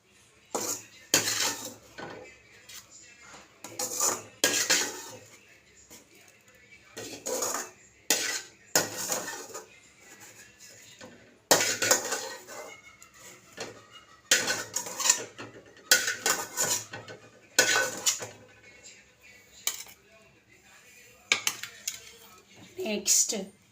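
A metal spatula scrapes and clanks against a pan as a fried egg is lifted out onto a plate, in repeated bursts of sharp clattering with short pauses between, close and fairly loud.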